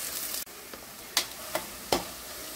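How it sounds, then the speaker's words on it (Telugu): Onions frying in a pan until browned, a soft continuous sizzle broken by several sharp clinks and scrapes of stirring, no talking. "ఉల్లిపాయలు మంచిగా బ్రౌనిష్ కలర్ వచ్చేంత వరకు ఫ్రై చేసుకుందాము."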